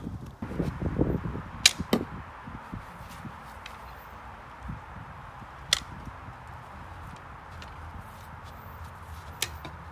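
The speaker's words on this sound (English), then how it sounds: "My target is so destroyed, some of the arrows are bouncing off." A few sharp thwacks of arrows striking a badly worn target, some bouncing off, spaced several seconds apart, over quiet outdoor wind noise with some low shuffling.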